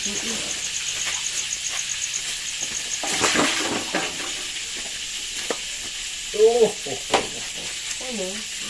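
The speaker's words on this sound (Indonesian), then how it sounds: "Sambi goreng tahu." Tofu frying in a pan gives a steady hiss and sizzle with scattered pops and stirring clatter, close and moderately loud. A few brief bird-like chirps and faint voices come in near the end.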